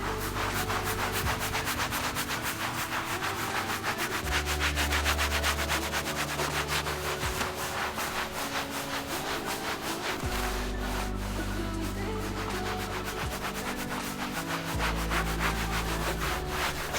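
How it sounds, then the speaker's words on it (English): A brush scrubs the textured vinyl roof of a classic Chrysler Valiant with rapid, even back-and-forth strokes, close and continuous, under steady background music. "I started by cleaning the vinyl roof using a brush that will be better at getting into the pores of that"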